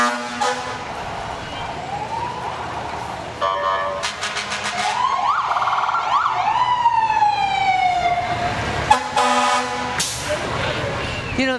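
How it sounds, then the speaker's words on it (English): Fire trucks in a Fourth of July parade along a main street in Waupaca, Wisconsin, sound wailing, rising and falling sirens and loud blasting air horns, several overlapping and close by. "and loud horns as always"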